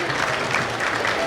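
Audience claps together at a gathering held in honour of Jain saint Pulak Sagar, a brief, dense burst of steady applause, close and loud.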